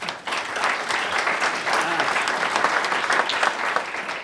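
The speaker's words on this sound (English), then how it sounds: "Please round of applause for Ashley Highfield." An audience applauds an introduced guest at an interview event, producing dense, sustained clapping that holds steady throughout at close range with no talk over it.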